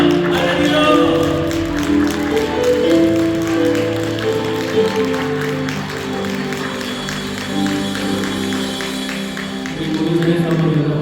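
A church congregation claps together in a sustained, steady round of applause, with a voice talking over it and music tones underneath throughout.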